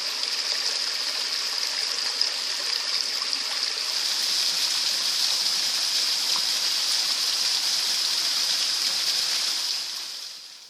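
Forest stream running steadily beneath an old willow in the Serra do Açor, a continuous close hiss and gurgle of flowing water, fading out at the very end.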